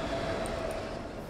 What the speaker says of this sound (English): We're in a subway now.